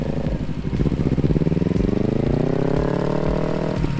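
A motorcycle engine chugs at low speed during slow parking-lot turns, a close, steady putter with rhythmic pulsing that rises slightly in pitch as the bike gently throttles through the turn.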